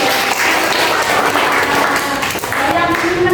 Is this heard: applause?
yes